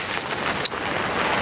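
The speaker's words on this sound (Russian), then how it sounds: "такой дождь" Rain falls at an autumn float-fishing spot for crucian carp, a dense continuous hiss of drops on water and surfaces close by, with one brief sharp tick partway through.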